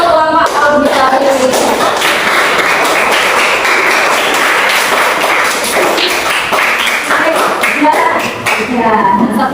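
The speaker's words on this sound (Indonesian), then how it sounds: "Tepuk tangan semua untuk kelompok auditori." A classroom group of students claps loudly and continuously, a dense rattle of hands that keeps going, with brief voices at the start and end.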